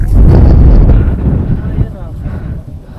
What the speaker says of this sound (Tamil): செம்ம காற்று வருது